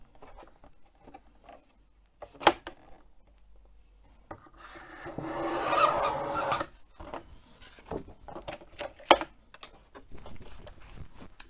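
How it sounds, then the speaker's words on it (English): Card stock is trimmed on a paper trimmer: a few sharp taps and handling rubs, then a sustained scraping slide of the blade across the card, followed by further clicks and paper handling, close and fairly quiet. "trim 4 centimeters off this edge here."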